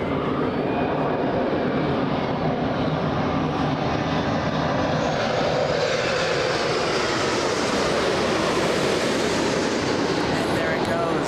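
A KLM airliner passes at Los Angeles International Airport, its loud jet roar filling the whole stretch and sweeping slowly in pitch as it goes by.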